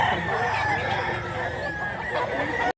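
A gamecock crows at a rural cockfighting event, its call sustained and fairly close over a steady bed of crowd murmur and other birds, ending abruptly.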